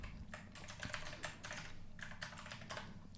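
A password being typed on a computer keyboard in a quiet room: two quick bursts of close, light key clicks separated by a short pause, soft and unhurried, with no voices.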